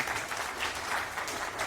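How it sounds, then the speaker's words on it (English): Warm applause from a conference audience welcoming a speaker to a Debian contributors talk, steady dense clapping throughout, moderately loud and without voices. "Please give a very warm welcome applause."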